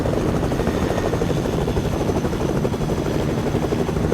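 A helicopter in a video game thrums steadily as it flies, a loud, continuous rotor drone that fills the whole stretch without any talking.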